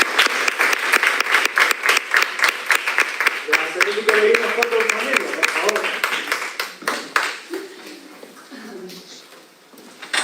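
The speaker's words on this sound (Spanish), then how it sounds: "y a los doctores se merecen un aplauso" Audience applause at a hospital talk on acute myeloid leukaemia, a dense, close burst of clapping that gradually thins and fades, with voices talking partway through.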